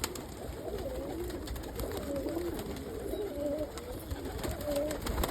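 Birmingham roller and Indian fantail pigeons coo softly and repeatedly while feeding on greens in a loft, low murmuring calls against steady background hiss.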